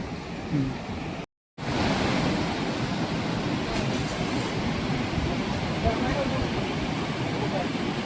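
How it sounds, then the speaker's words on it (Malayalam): Continuous loud roar of water rushing over a causeway in Idukki, Kerala, a dense wash of noise that barely changes. "വെള്ളം മറിഞ്ഞു പോകുന്ന പോക്കുണ്ടോ"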